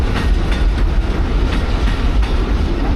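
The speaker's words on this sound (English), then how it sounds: "Wow, that train is long." A long passenger train, an auto-carrying service running from Virginia to Florida, rolls past up close with a loud, steady rumble and rhythmic clickety-clack of wheels over rail joints throughout, with no talking.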